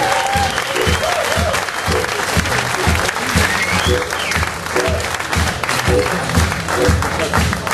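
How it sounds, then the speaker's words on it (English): Audience applause at a blues rock concert fills the room, loud and dense with steady clapping and some cheering throughout, close and continuous. "Give yourselves a round of applause."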